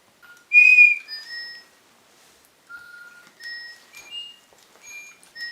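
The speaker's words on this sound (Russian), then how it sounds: "Надо в эту штучку засвистеть, и птичка запоет. Называется свисток." A whistle blown to make a DigiBirds toy bird sing gives a loud, bright opening note, then several shorter, softer whistled tones in scattered bursts.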